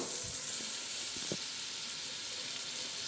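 Tomatoes tipped into onions and masala frying in oil for a simple chicken pulao, giving a steady close sizzle with a few soft thuds and stirring touches early on, no talking.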